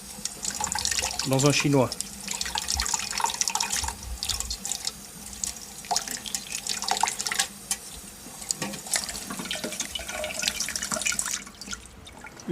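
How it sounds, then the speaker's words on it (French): Cold tap water running in a thin stream while hard-boiled eggs are peeled, steady splashing and dripping into a sink with small clinks, close, under someone speaking French. "Si l'écalage se fait sous un filet d'eau froide, récupérez les coquilles"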